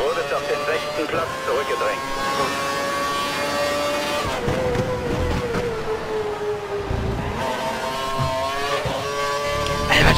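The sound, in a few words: Formula 1 racing cars accelerating in video game F1 2012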